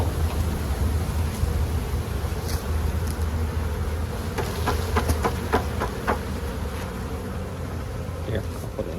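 Honey bees buzz around an open beehive in spring, a dense, continuous hum close by with a few light tapping knocks from handling the hive equipment.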